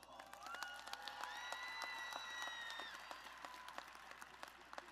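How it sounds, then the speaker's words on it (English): A graduation crowd applauds parents during a valedictorian speech, with soft, steady clapping from many hands at a distance, and a thin sustained high tone drifting above the applause midway. "I believe they deserve a little round of applause"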